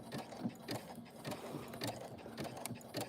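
A sewing machine runs in stop-and-go bursts while zigzag stitching a bag, its rapid mechanical clatter pulsing in short, regular runs with brief pauses between them, close and fairly quiet.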